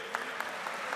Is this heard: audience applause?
yes